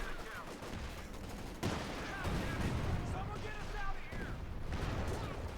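Self-propelled artillery firing in the Company of Heroes 2 strategy game, a dense string of booms and gunfire rumbling across a busy battlefield mix while a commentator talks over it.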